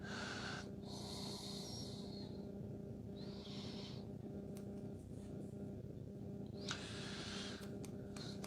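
Someone snores on a chair in a quiet room, with rhythmic wheezy breaths repeating about every two seconds, faint and close over a low steady hum.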